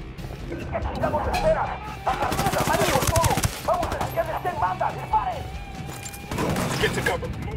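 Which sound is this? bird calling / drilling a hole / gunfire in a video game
gunfire in a video game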